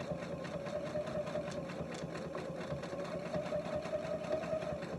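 A sewing machine stitches a quilted relaxed-fit slipper, running at a steady, close, continuous whirring hum with a fast, even stitching rhythm throughout.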